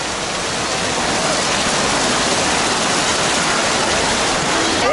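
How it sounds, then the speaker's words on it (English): Heavy monsoon rain pours steadily onto a street in Dharavi, Mumbai, a dense, loud, unbroken hiss of water close by that holds evenly from start to end. "When it rains in India, it does so with gusto."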